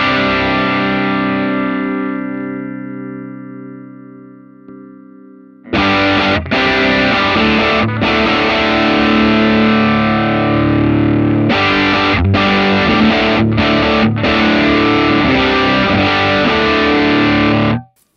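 An electric guitar plays through a Line 6 Helix amp model with heavy distortion: a sustained chord slowly fades out, then loud, dense strummed chords with brief sharp stops run to the end.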